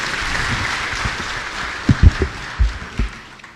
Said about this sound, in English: Another round of applause for the PCS, please.